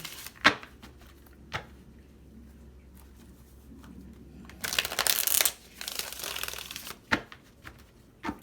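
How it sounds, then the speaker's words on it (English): Quiet rustling and crisp riffling of a deck being shuffled, with sharp clicks at the start and a louder burst of card noise midway. "One more shuffle."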